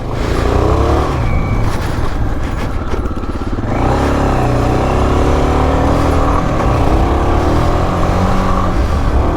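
A 1984 Honda XL600R dual sport motorcycle engine revs loudly and climbs through gears while riding, with a brief dip and strong roaring acceleration, sustained close up throughout.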